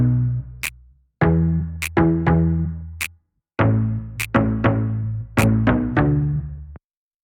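Finger snaps open a short hip-hop beat that also carries sampled melodic notes, with sharp clicking snaps over punchy, bass-heavy hits in a looping pattern and brief gaps between phrases.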